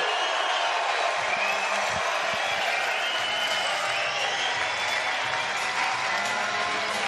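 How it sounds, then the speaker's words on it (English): Pool hall crowd at the 2022 Mosconi Cup cheering and applauding after a South Dakota player ties the match 1-1, a dense, steady roar of clapping and voices filling the whole stretch without a break. "This crowd going wild here, seeing a South Dakota kid tie it up at 1-1."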